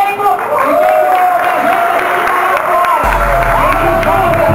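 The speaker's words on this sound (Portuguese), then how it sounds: "Gente, faz aplauso o elenco." Crowd applauding and cheering for a fashion show cast, steady dense clapping and whoops with a host's voice and music over it, a deep bass thump entering midway.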